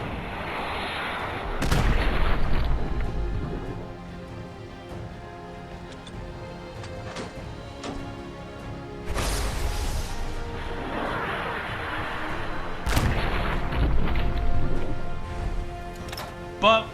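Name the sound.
explosions from rockets and bottle cap mines, video game Fallout 4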